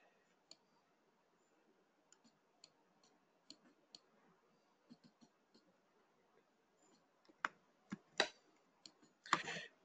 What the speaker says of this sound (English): This keyboard in the laptop is absolutely pathetic.